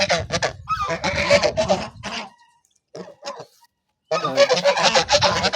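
Nearby grazing domestic geese give bursts of loud, raspy honks, fall silent briefly with a few softer calls, then honk again in a noisy flurry.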